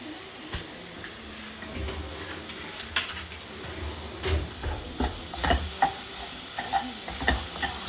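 Raw mango and sugar cooking in a pan, with steady stirring scrapes over a soft sizzle and frying hiss, close and moderately loud, with no talk.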